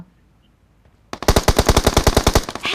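Gunfire in a shooting video game: after about a second of near silence, a loud burst of rapid automatic shots rings out, roughly a dozen evenly spaced cracks in quick succession, with no talking.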